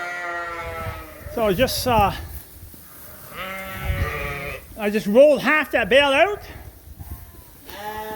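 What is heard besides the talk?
sheep bleating in the barn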